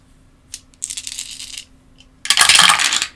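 Four dice rattle and tumble across a table in a Marvel Dice Throne board game, first a lighter shake and clatter, then a louder burst as they are thrown and settle.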